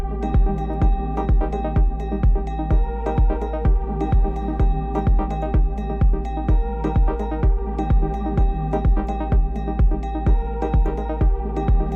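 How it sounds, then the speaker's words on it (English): A steady four-on-the-floor kick drum thumps under a sustained pad that dips and swells after each hit, pumping rhythmically throughout. "So with the kick, it sounds like this."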